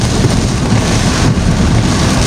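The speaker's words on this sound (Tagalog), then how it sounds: "Grabe yung ulan oh, grabe ang ulan dito sa Apari." Heavy rain pours down in Aparri during a dark storm, a loud, dense, steady roar with no gaps.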